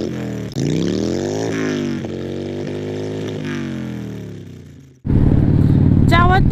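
A motorcycle engine roars close by, revving up and shifting through gears with rising and falling pitch, then a louder burst of acceleration near the end.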